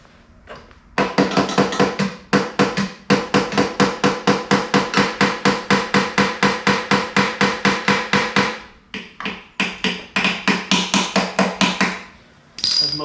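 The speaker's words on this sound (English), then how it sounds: "Let's tap on the bowl of the carburetor." A 7 horsepower lawnmower carburetor is struck with rapid, steady metallic taps, dozens of sharp close hits in long runs with brief pauses between bursts, first on the carburetor body and then on the bowl.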